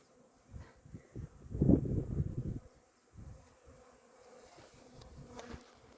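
A soft, steady insect hum with a louder buzzing swell near the start, honey bees hovering close by at a feeder of honey and water, against a quiet outdoor background.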